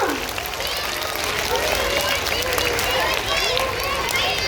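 Schoolchildren at a Hindi Day school program clap for their teacher, a busy, sustained patter of many small hands mixed with excited young voices and chatter throughout.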